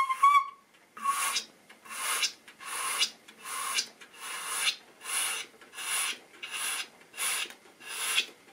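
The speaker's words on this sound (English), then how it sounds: "I'm going to blow some air in there." Air is blown through a suction cup with a hole into a crack in the back of a guitar, about nine rhythmic breathy bursts roughly a second apart, close and soft, after a short whistle-like squeak at the start.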